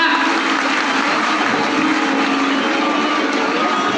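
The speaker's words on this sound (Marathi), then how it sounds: "टाळ्या वाजवा, टाळ्या वाजवा." Steady crowd applause at a Buddhist Society of India Dhamma Conference in Khamgaon, dense clapping sustained evenly throughout without a break.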